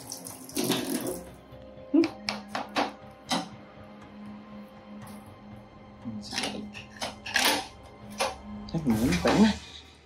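Mangoes being washed under a running tap, with splashing water bursts in several spurts across the clip and people talking nearby in between.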